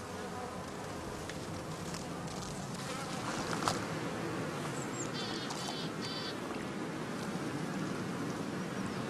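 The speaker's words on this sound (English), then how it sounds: "This allows the bees, as soon as they have arrived at the new site, to set out on their first orientation flight." Honey bees fly out from a straw skep hive on a heathland site, a dense, steady buzzing swarm sound that holds close and continuous throughout, with a few individual bees whining past near the listener.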